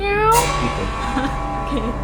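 A person's voice imitates a cat's meow, a single drawn-out nasal wail that is fairly loud and close, with a bit of talk around it.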